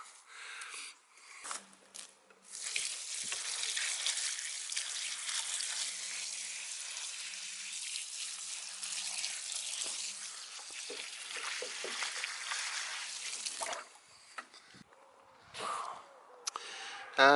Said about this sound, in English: so that'll need a heavy water in now